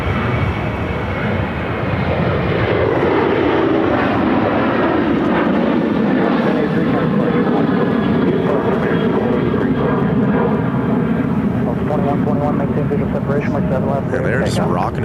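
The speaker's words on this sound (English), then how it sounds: "It's American Airlines 1083 to Austin." An American Airlines Boeing 737-800 jet takes off at Phoenix airport, a loud, sustained engine roar that builds and holds steady throughout, with a voice talking over it.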